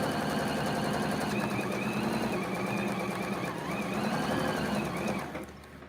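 A sewing machine stitching along the edge of fabric, a steady fast close mechanical hum and rapid needle clatter that runs continuously before slowing and stopping at the end, with no voice.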